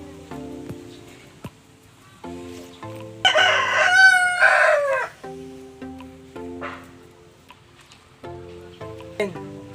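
A loud rooster crows once in a long, strained call, surrounded by softer clucking from hens nearby.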